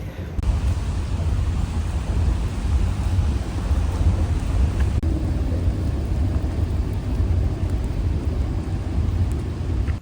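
Steady rain falls during an outdoor walk, a dense continuous hiss with a low rumbling undertone that holds evenly for about ten seconds, with no speech.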